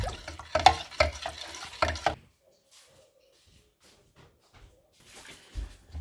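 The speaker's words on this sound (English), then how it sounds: "So you want to stir that really good to make sure that's all dissolved really well" A spoon stirs bicarb soda in a container to dissolve it for a homemade laundry stain remover, several close knocking scrapes over about two seconds, then near silence.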